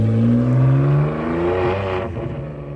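A Ferrari 599's engine climbs in a loud, close rising tone, drops briefly as it shifts, then pulls up again through the next gear before easing off.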